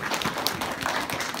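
An audience claps together in a brief, dense burst of applause that stays steady and fairly loud for its short length.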